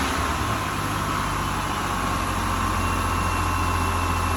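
Rover SD1 2600S inline-six engine idling steadily after repair work on its fuel filter, a loud, continuous low rumble with a smooth even hum throughout and no talk.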